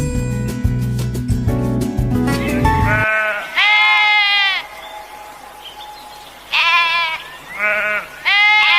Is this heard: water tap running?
no